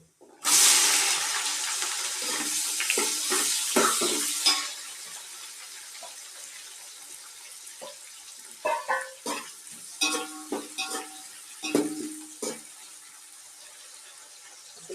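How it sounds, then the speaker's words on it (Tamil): Onion sautéed with cinnamon and cloves in a pan starts with a loud sizzle for a few seconds, then fades to quieter frying under a run of spatula scrapes and knocks against the pan, with no talking. "பட்டை, லவங்கம் எல்லாம் போட்டு வதக்கிக்கணும்."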